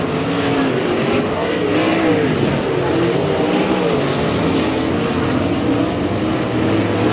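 Sprint cars roaring around the dirt oval at Humboldt Speedway, a dense, loud, continuous engine drone with wavering pitch as the field runs full throttle down the straightaway.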